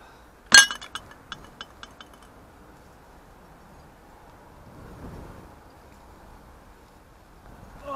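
A glass jar dug up at an allotment clinks sharply once, followed by a few quick fading rings and taps, then quiet rustling and faint handling noise close by.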